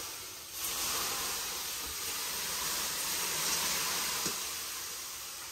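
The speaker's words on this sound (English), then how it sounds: "Whoa. Hot steam." Hot steam hisses off the stones in a Finnish sauna, a steady, even rush of noise that carries through the whole stretch without pause, fairly close, with no voices.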